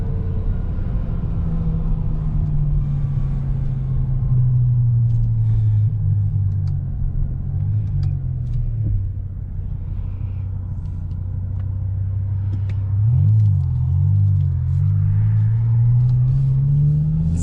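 BMW E60 M5 with its S85 V10 engine on a test drive, a loud, deep exhaust drone with steady low rumble and rising and falling rev sweeps as it shifts through gears, heard close with no voices.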